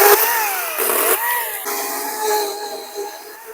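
An Aspaire C15X-P4A battery chainsaw cuts through a fallen tree, its loud, close electric motor whine dipping and recovering in pitch as the chain bites under load.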